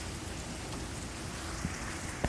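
Rain that has just started falling makes a soft, even hiss of drops on surfaces, fairly faint and continuous, with a few slightly louder taps and no voices.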